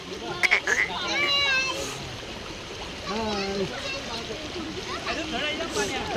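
A young girl splashes and plays in the cold pool beneath Adai waterfall near Panvel, with irregular splashes and flowing water close by and children's and adults' voices over them.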